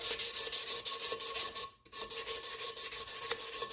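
Rhythmic strokes of sandpaper rubbing an aluminum canister from a 1946 Coleman 530 G.I. pocket stove, a steady back-and-forth scratching with a brief pause midway, close and alone.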